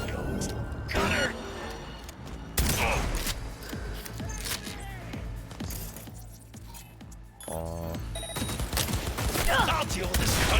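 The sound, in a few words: gunfire and explosion in the video game Cyberpunk 2077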